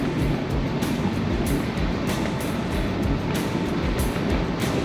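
A 1957 Cadillac Eldorado Biarritz convertible accelerates, a steady rumbling engine and road roar with wind buffeting, loud and continuous throughout.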